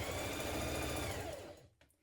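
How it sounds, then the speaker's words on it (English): A sewing machine runs steadily, stitching the side seam of a spring dress at a 1 cm seam allowance, a close continuous whir that stops near the end. "we're going to stitch this in place with a 1cm seam allowance"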